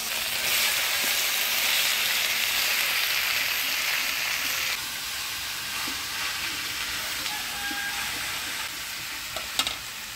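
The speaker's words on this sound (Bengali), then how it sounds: "এবার কাটিয়ে রাখা লাউ দিয়ে দিচ্ছি।" Chopped bottle gourd hits a hot pan of spice paste made from ground coriander, cumin, ginger and radhuni, giving a loud, steady sizzle with stirring scrapes that eases slightly partway through, no voices.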